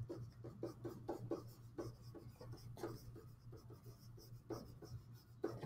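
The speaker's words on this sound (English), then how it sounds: "So I'm just going to write that." A pen writes on paper close by with a quiet, continuous scratching of short strokes and taps. The sound is soft and steady throughout, with a faint low hum beneath.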